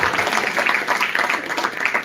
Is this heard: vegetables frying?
no